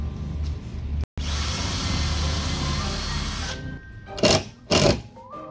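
A power drill bores into pallet wood in a long, steady whirring run broken by one short pause. A few sharp knocks and clatters follow as it stops.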